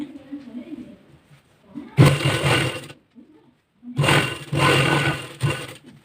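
A sewing machine stitching a blouse runs in two close, loud whirring bursts of about one and one and a half seconds, with someone talking quietly before and between them.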